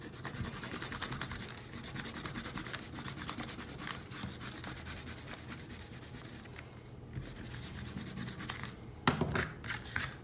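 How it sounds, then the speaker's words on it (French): Eraser rubbing over paper to remove pencil construction lines from a drawing, a continuous soft scrubbing heard close up and faint, ending in a few sharper strokes. "on peut gommer nos traits de construction"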